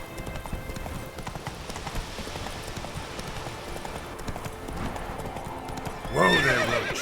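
Roach, a horse in The Witcher 3, gallops with steady clip-clop hoofbeats across a busy battlefield soundscape, then lets out a loud, close whinny near the end.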